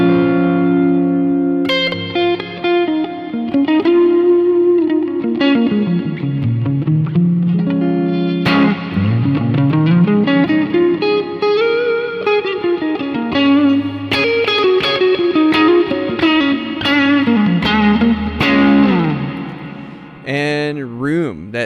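Electric guitar on a Strymon pedalboard with a large reverb setting plays loud, ringing chords and sweeping slides whose long, spacious tails blur into each other across the whole passage.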